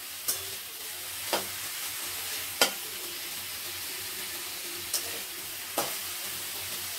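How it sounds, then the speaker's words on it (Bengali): Pumpkin, potato, flat beans and eggplant simmering in a pan over a low gas flame, a steady soft sizzle broken by a handful of brief stirring clicks, close and fairly quiet with no talking. "সবজিগুলো দিয়ে গ্যাসের ফ্লেমটা সিমে করে দেবেন, যাতে সবজিগুলো ভালো করে সেদ্ধ হয়।"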